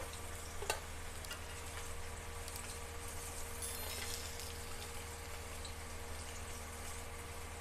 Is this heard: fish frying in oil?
yes